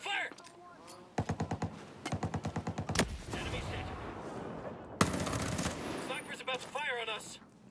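Automatic weapons fire in Ghost Recon Breakpoint as Army Rangers clear an enemy-held area: several sharp rapid bursts, close and loud, then a sustained heavier barrage, with squad radio chatter between the volleys.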